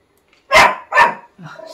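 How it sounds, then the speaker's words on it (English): A dog barks twice in quick succession, loud and close, followed by a softer whimpering yelp, with no talking over it. "Excuse my dog, she's off again."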